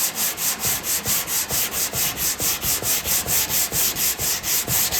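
Block sanding body filler on a Chevrolet C10 tailgate, with rapid, rhythmic back-and-forth rasping strokes, about four per second, close and steady.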